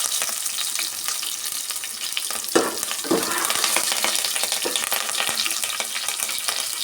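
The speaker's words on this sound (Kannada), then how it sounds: "ಈಗ ಕರಿಬೇವಿನ ಸೊಪ್ಪು ಎಲ್ಲ ಸೇರಿಸಿ ಚೆನ್ನಾಗಿ ಫ್ರೈ ಮಾಡ್ಕೊಳ್ಳೋಣ" Garlic, dried red chillies and curry leaves fry in hot oil for obbattu sambar, giving a steady loud sizzle with a few sharp scraping stirs of a spoon partway through.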